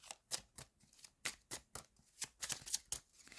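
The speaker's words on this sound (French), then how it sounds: "une dernière carte, allez, une dernière carte pour fermer ce tirage" Tarot cards shuffled and drawn by hand in a quiet room, a quick run of close, crisp riffling flicks and slaps, faint and alone without talk.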